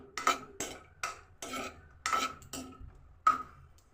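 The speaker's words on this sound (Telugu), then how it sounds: "నెయ్యి కరిగిపోయిందండి చూడండి జీడిపప్పు వేగిస్తుంది" Cashews in melted ghee in a pan, heard as a steady series of scraping, clinking spoon strokes about every half second, fairly close and moderately quiet with a low background hum.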